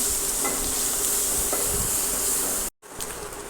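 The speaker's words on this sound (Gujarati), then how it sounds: "હવે સારી રીતે તેને મિક્સ કરી લઈશું" Onions crackle and sizzle steadily in hot oil with asafoetida and curry leaves while a spoon stirs them in a pan, with scraping strokes over the hiss and a brief drop in the sound near the end.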